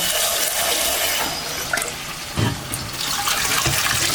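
Cold water runs over cooked spaghetti in a kitchen, a steady rushing pour with a few brief splashes and clunks as the pasta is rinsed.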